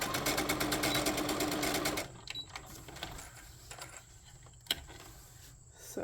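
Sewing machine stitching seams on a boxy bag, a loud steady rapid whir for two seconds that stops, followed by quieter handling clicks and a sharp tap.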